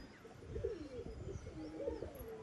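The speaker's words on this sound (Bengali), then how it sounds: "এটা হচ্ছে নতুন কবুতরটা" A newly acquired pigeon cooing at a home loft: soft, low, rolling coos repeated a few times, close but quiet, alone without talk.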